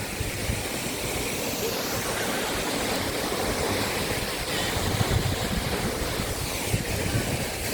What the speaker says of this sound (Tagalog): At dito tayo ngayon sa falls.